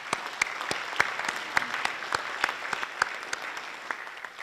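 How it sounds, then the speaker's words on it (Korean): An audience at the DGIST university presidential inauguration ceremony claps, steady applause with distinct individual claps standing out, moderately distant and filling the hall. "제가 여러분들을 위해서 박수를 치겠습니다"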